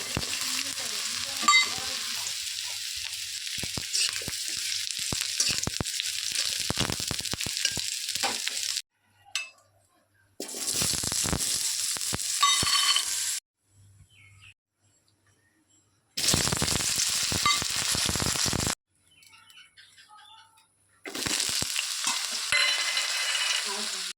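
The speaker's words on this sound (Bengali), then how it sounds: "কড়াইয়ে তেল দিয়ে এবার আমি এক এক করে সব ভেজে নেব" Vegetables frying in oil in a kadai for a mixed vegetable curry: loud, steady bursts of sizzling with stirring scrapes, broken up by abrupt silent gaps.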